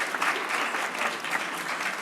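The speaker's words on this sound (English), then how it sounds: "Yes, you can applaud." Steady applause from the audience at a town awards ceremony, a dense, even wash of clapping that holds at the same level throughout with no talk over it.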